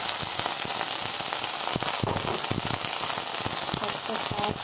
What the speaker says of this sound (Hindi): लहसुन, मिर्ची, प्याज और भिंडी को तेल में डालूंगी।